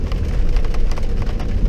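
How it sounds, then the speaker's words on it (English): Rain falling on a 2002 Honda CR-V at an outdoor SCCA autocross event, a loud close patter of drops drumming steadily on the car's surfaces. "of course it starts to rain a little bit harder"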